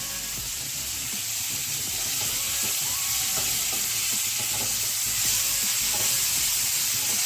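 Water poured into a hot pan of cooking vegetables for a Bengali Malabar spinach (pui) dish sets off a steady, hissing sizzle that bubbles evenly and close by for several seconds.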